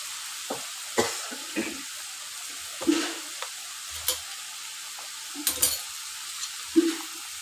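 Pointed gourd curry being sautéed in a pan, with a soft steady sizzle under intermittent scraping stirs of a spoon, close and fairly quiet.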